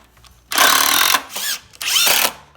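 A power drill drives screws into the rail of a heavy-duty treated-wood Amish porch glider, with three loud, close bursts of whirring, the second one shorter, separated by brief pauses.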